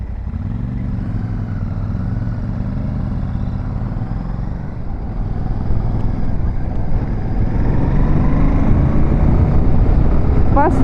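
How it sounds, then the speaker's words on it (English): A Royal Enfield Shotgun 650 motorcycle engine hums with a calm, low, steady drone while riding, gradually building in loudness as it picks up speed, with wind noise mixed in. "I could hear the bike, and that makes me happy, but it's not a harsh sound"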